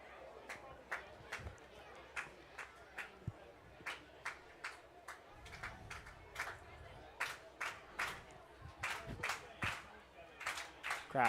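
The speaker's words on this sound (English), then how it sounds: "Crowd getting into this one." A baseball crowd clapping in quick bursts and cheering during a game against the Ice Haulers, the sharp claps repeating steadily over a low murmur of chatter.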